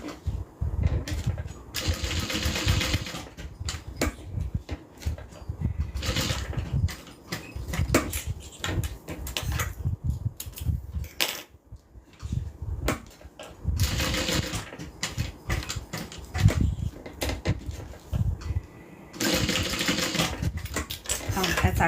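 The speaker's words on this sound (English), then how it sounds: "All right, let me sew this down." A sewing machine stitches a small box pattern to secure fabric on a custom order, running in short bursts with pauses between, close and fairly loud, with low motor hum under each run.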